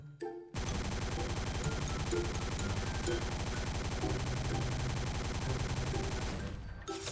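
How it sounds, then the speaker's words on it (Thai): A gun in the video game XSHOT fires special-effect bullets in one continuous rapid burst lasting several seconds, dense and loud, then stops abruptly. "ทุก1วินาทีเนี่ย ก็จะยิง เอฟเฟกกระสุนพิเศษออกมานะครับ"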